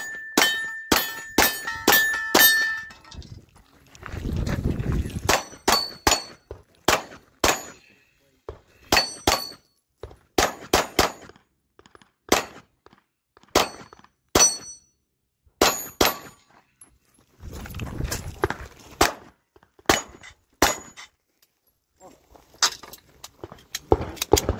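Rifle shots at a zombie-themed shooting match ring off steel targets, a long irregular string of sharp metallic clangs and dings, some rapid and some spaced, loud and close, with occasional faint voices.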